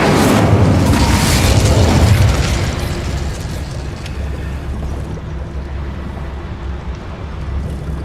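An Incendio fire spell cast in Hogwarts Legacy erupts as a loud, roaring burst for about two seconds, then settles into a steady lower rumble of ambient game sound.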